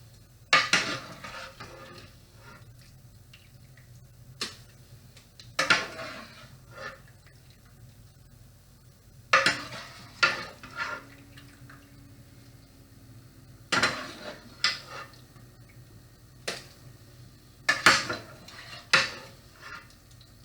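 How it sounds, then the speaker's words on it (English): Carnitas are scooped out of a cooking pot with metal utensils: sharp clinks and scrapes come in irregular bursts a few seconds apart, close and fairly crisp, with quiet pauses in between. "just scoop all of those carnitas out"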